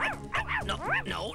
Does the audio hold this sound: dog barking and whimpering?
yes